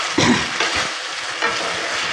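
Egg chilli frying in a pan on low heat, stirred with a spatula: close, continuous sizzling with scraping strokes of stirring, and no voices.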